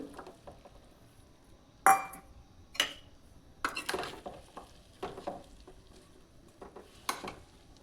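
A spoon stirs fresh turmeric into a pickle in a container, giving a few separate clinks and scrapes with quiet pauses between them, close and fairly soft.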